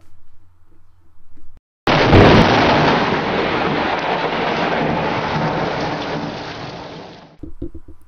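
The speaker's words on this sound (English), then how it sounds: "a sudden flash of lightning, followed by a tremendous thunder roll, erupted" A loud, rumbling crash of thunder bursts in and rolls on for several seconds over heavy rain, then cuts off abruptly.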